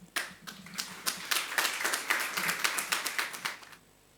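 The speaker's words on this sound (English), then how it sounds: "Please give them a huge round of applause." An audience at a diplomacy panel event applauds its speakers, a steady burst of close, crisp clapping that builds, holds for a few seconds and then stops cleanly.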